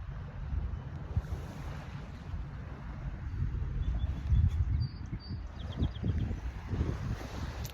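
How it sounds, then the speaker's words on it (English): Surf washing onto a low-tide beach near the fort at Popham Beach in Maine, a steady low rumble of waves with some wind across the microphone and no voices. "beach near the fort for a morning walk"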